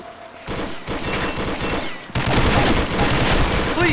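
Rapid bursts of video game gunfire crackle through a shooter match, a dense fusillade that grows louder and more intense halfway through, with no speech over it.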